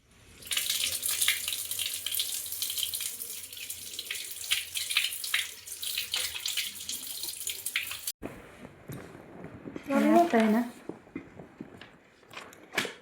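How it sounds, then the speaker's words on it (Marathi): A running water tap splashes steadily as a child washes hands at a sink, then the flow cuts off and a brief voice and faint handling noises follow. "मग हात धुवा आता"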